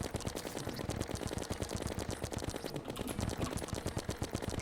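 A gun in a video game firing silver bullets in a rapid, unbroken stream of sharp shots, loud and close, like steady machine-gun fire with no pauses.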